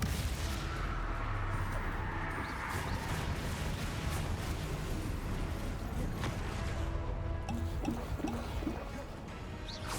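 In the Hogwarts Legacy video game, the Confringo fire spell releases a dense, roaring blast with a crackling, rumbling fiery wash that stays loud and continuous before easing slightly at the end.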